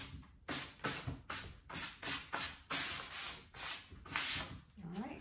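Sanding painted wooden furniture by hand with 220 grit sandpaper, about ten rhythmic back-and-forth rasping strokes, close and fairly quiet, with short pauses between them.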